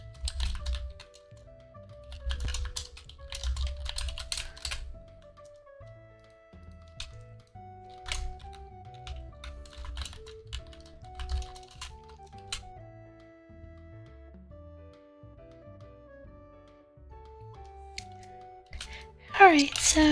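Computer keyboard typing while writing code for a Unity strategy game, bursts of quick soft key clicks in uneven runs with pauses, close and fairly quiet, under a person talking at intervals.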